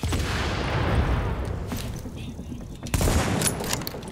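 Rapid gunfire in the shooter video game The Division, a dense continuous burst of shots that eases slightly midway, then a sharper volley returns, loud and close with no one talking over it.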